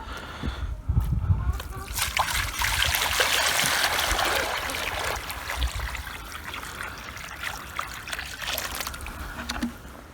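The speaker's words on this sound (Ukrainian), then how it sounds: "Зараз налью води." Water splashes and trickles steadily into a container for several seconds in freezing weather at a rabbit farm, a close, continuous pouring sound that tapers off near the end.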